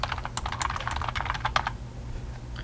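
Rapid keystrokes on a computer keyboard while remarks are typed into a work order form, a close, steady clatter for about two seconds that then stops, leaving quiet room tone.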